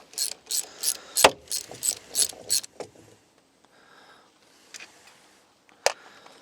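A 1/2 inch wrench ratchets on a 1976 Mercruiser 120hp carburetor, giving a rapid run of close, sharp clicks for about three seconds, then near silence with a few faint taps and one last click.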